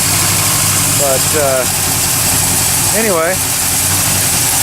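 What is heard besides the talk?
Chevy 350 engine idling with new single 2.5-inch exhaust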